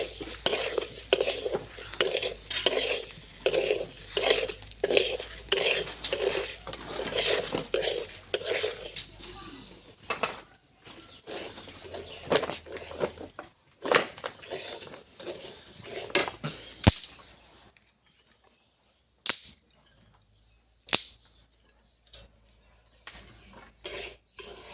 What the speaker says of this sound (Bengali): চাল ডাল ভাজা হয়ে গেছে